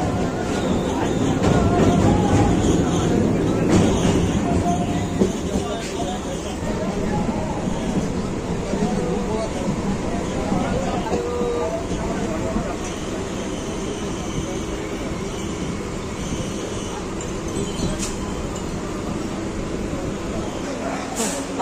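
A Sealdah–Laxmikantapur local train runs with a loud, continuous rumble and rattle heard from on board, heaviest at the start and holding steady throughout, with occasional sharp clanks.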